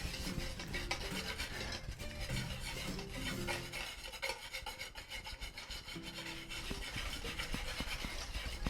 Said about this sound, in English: slowly stirring the oil into the mixture.